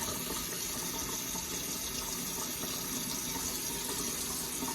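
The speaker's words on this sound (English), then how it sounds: "Get some cold water here." Cold water runs steadily from a tap into a sink during a wet shave, a continuous close hiss and splash lasting the whole stretch with no talking.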